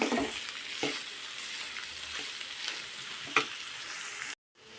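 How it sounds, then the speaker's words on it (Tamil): Onions sautéing in oil with popped mustard seeds and curry leaves, a continuous soft sizzle with occasional stirring scrapes, close and fairly quiet, cutting off abruptly near the end, with no talking. "பார்த்திங்கன்னா கடுகெல்லாம் பொறிஞ்சிருச்சு அதோட கருவேப்பிலையும் வெங்காயத்தையும் பார்த்திங்கன்னா வெங்காயம் நல்லா பதம் கட்டும்"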